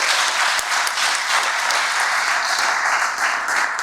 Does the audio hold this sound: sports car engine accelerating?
no